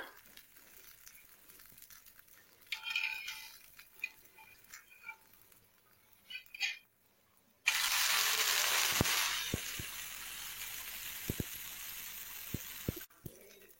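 Rava dosa made from semolina batter, just flipped and crisping on a hot pan, gives a steady loud sizzle from about eight seconds on, with a few sharp pops; quiet kitchen rustling comes before it.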